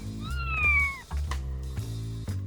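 A cat meows close up, one drawn-out wavering call followed by shorter, rougher yowls over a low background rumble.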